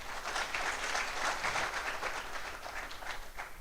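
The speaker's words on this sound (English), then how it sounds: "Clap for that, Etienne, please." Lecture-hall audience applauding at an inaugural academic lecture, a steady, fairly quiet wash of many hands clapping together for the whole stretch, somewhat distant and without speech.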